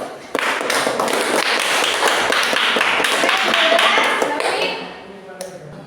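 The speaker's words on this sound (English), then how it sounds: "Give a applause for Virus." Classmates applaud a student in a classroom during a teaching session, a thick burst of clapping that holds for several seconds and then fades, with voices mixed in.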